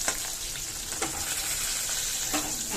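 Pointed gourd and eggplant frying in a pan produce a loud, steady sizzle close by, broken by a few brief stirring scrapes, with no talking.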